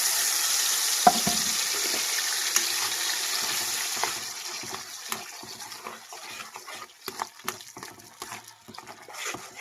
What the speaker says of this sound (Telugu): ఈ విధంగా మొత్తం బాగా ఫ్రై చేసుకున్నామండి